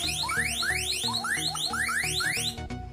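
A phone's anti-theft alarm app blaring after the phone is unplugged from its charger, a loud rapid siren of repeated rising electronic sweeps that cuts off abruptly near the end.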